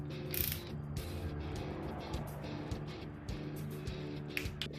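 A torque wrench ratchets while tightening bolts on an Opel CIH short block engine during assembly, giving quiet, close clicking in short repeated bursts with no talk.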